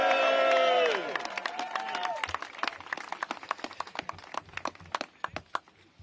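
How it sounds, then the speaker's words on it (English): Applause for council members at an outdoor DC statehood week kickoff event, starting as a burst of scattered claps after a voice fades out, then thinning to sparse individual claps over several seconds. "Give them all a big round of applause."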